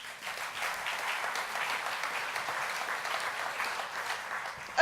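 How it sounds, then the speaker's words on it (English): Sustained audience applause at a law society awards ceremony, a dense, steady wash of many hands clapping that holds evenly throughout and swells slightly at the very end. "Another round of applause."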